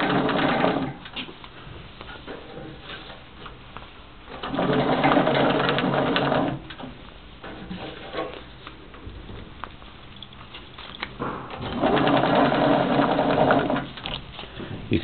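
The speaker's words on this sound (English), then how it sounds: "Brief demonstration on the Vacuumatic TCF counting small pouches." A Vacuumatic TCF friction feeder counts small filled sachets in batches, running in loud, steady mechanical bursts of a few seconds each, separated by quieter idle stretches.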